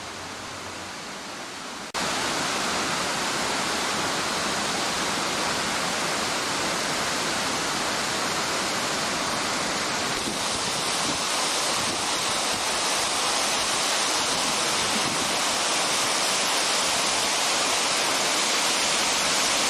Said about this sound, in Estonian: 10 väiksemaid jugasid, mis igaüks eri kohtadest kaljuseinast välja nõrguvad